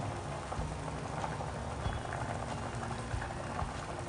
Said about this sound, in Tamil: குழம்பு நல்லா கொதிச்சுன்னு அதுக்கு கொஞ்சம் பெருங்காயப்பொடி போடுவோம்